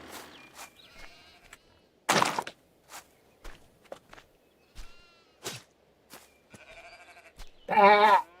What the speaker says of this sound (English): I can hear the sheep.